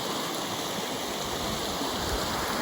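A small brook-trout stream flows in a steady, continuous rush of water. The sound is even and unbroken, with no voices.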